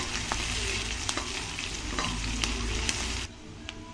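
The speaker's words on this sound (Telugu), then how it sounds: "పచ్చిమిర్చి కొంచెంగా వేయించుకొని" Green chillies and onion pieces fry in a pan for a simple chicken curry, a close, steady sizzle with occasional clinks of stirring that drops abruptly quieter near the end.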